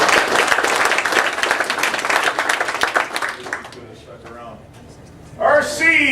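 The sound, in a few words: applause at an awards ceremony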